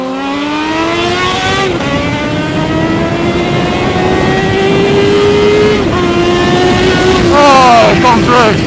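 A classic Japanese sport motorcycle rides past close and loud, its engine droning and rising through the gears with brief exhaust crackles. Someone talks over it.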